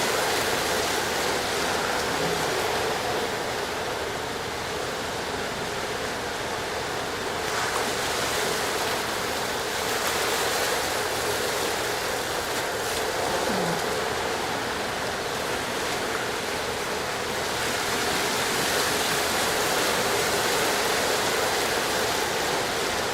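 Ocean waves break steadily along a Maui shore, a continuous loud roar of surf with gentle swells in intensity and no voices.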